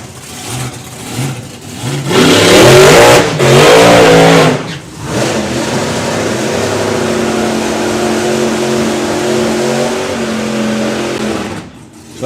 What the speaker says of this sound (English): So Jim does his burnout in the burnout box underneath the tower in the Kestrel lane